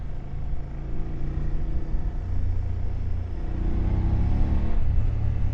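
A BMW F750GS motorcycle engine under throttle in second gear, a low steady rumble that swells gradually as it pulls, heard from on the bike with wind noise and no talking.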